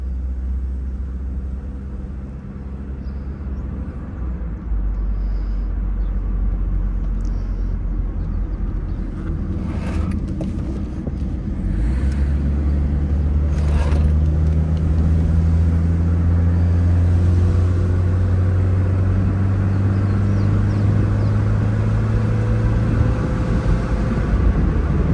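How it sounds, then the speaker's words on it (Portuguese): An Opel Ascona convertible drives slowly through a busy street, its engine droning steadily before the revs drop sharply on a gear change and then build again under constant road rumble. "Percebe que o carro tá num giro, de repente despenca 1000 RPM"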